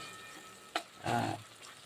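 Sesame seeds fry in a pan for tiler jhuri bhaja, a faint low sizzle with a sharp click and a brief scraping stir, no talk.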